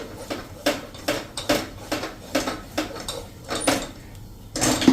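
A spatula scrapes and clanks steadily against a pan as besan mixture with ghee is stirred for mesub, giving about a dozen evenly spaced metallic strokes, close and clear, with no talk.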